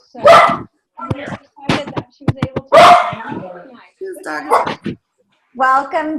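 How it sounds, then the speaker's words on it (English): A dog barks intermittently in the background of a casual online video call, its short sharp yaps and bow-wows mixed in with several people talking over it. "I'm sorry about the dog."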